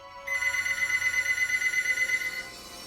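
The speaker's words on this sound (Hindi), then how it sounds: "मेरा फोन किचन में छूट गया है और किसी की कॉल आ रही है" A phone left in a kitchen rings, a steady electronic ringtone with a rapid pulsing pattern lasting about two seconds, moderately loud and alone.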